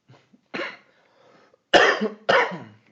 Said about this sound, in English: has had this cough for like 6 years now